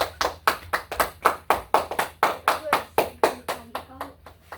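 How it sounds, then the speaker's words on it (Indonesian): A classroom group claps their hands together after student presentations, a loose burst of repeated claps about four per second, close and steady for several seconds with some overlapping voices beneath. "Ayo beri tepuk tangan dulu."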